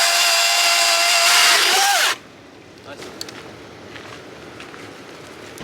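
A downed tree blocking a trail is being cut with a loud, whining power saw that runs close for about two seconds and then stops abruptly, leaving faint rustling and light movement.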